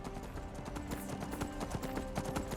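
A horse's hooves clip-clop at a brisk, even gait in a video game, sharp repeated hoof strikes over a layer of game background sound, close and fairly quiet.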